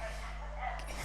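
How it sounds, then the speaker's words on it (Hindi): Several dogs bark outside, yips and barks sounding from a distance behind a voice in the room. "बहुत ज़्यादा कुत्ते भौंक रहे हैं।"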